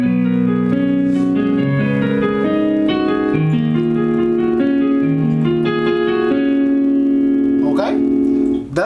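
Piano plays a looping figure from a song, with layered chords and melody notes moving steadily throughout, loud and close with a brief disturbance near the end.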